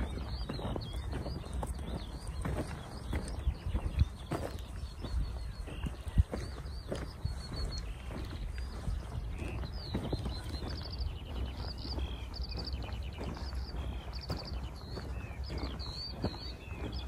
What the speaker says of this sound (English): Let's get close to the horses.